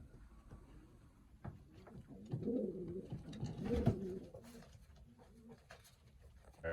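Pigeons in a breeding loft coo softly in low, rolling bursts, rising to a cluster of overlapping calls midway before quieting, close and gentle in a calm indoor space.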